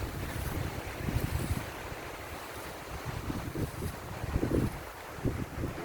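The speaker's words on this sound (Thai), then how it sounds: "เสียงลม" Steady wind blowing outdoors in Swedish woodland during wild blueberry picking, a continuous broadband rush with gusty low rumbles and buffeting swells, no voices.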